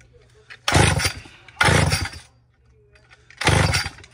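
A vintage Poulan S72 chainsaw fitted with a huge six-foot bar roars up to full throttle three times. Each loud, rasping burst lasts about a second and drops back to a low idle in between.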